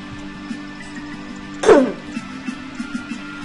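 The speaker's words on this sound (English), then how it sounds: "Oh, I got a cough like crazy." A single short cough, close and fairly loud, breaks a steady low background of game music and hum, then quiet returns.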